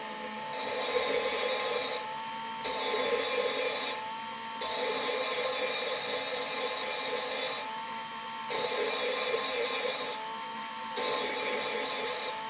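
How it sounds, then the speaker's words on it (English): Repeated bursts of gritty, whirring grinding from a small rotary tool lapping an engine valve with grinding compound, starting and stopping every couple of seconds, steady and close with no talking. "valve grinding compound do its thing. Don't do this at a high speed."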